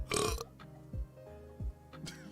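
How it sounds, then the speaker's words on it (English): A loud, low burp opens the clip, followed by a few short low gulping bursts and a final quick noisy puff. "You got a burp in your mic there, bud?"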